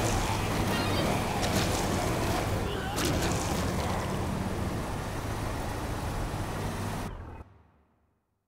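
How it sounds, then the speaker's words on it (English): In the Dead Rising Deluxe Remaster game, a car and truck slide around. A loud, steady rumble of engine and tire noise plays under continuous wind-like roar, then cuts out abruptly near the end. "Car slides, truck slides around."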